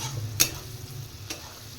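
Fried vegetables being stirred with black pepper powder in a pan: a faint low sizzle broken by two quick spatula clicks, quiet and close.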